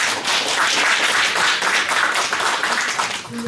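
Applause in a hall at an academic conference on the independence movement, a dense, fairly loud burst of clapping that holds steady and thins slightly at the end.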